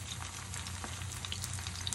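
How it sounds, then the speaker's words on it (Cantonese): An oyster omelette of egg and batter sizzles in a hot pan, a soft steady frying crackle with small pops, faint and close with no voices. "煎到你另外一邊咧，又係煎分零鐘到啦"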